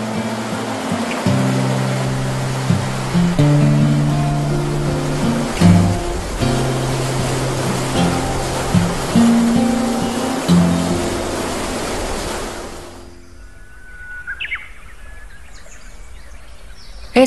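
A powerful river in Xinjiang rushes as a loud, steady roar with faint tones beneath, then drops abruptly to a quieter, more distant wash near the end.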